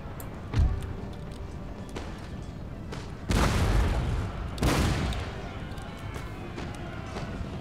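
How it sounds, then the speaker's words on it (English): Artillery firing on French troops in a video game, with a few distant thumps followed by two heavy, loud booming barrages with rumbling tails, and speech faintly underneath. "let's get the artillery shooting down these guys."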